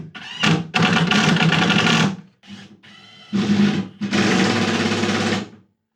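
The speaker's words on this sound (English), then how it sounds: "I've already drilled the pilot holes, just need to drive the screws" A drill driving screws into a cabinet for a miter saw station, sounding as several bursts of buzzing motor whine separated by short pauses, loud and close.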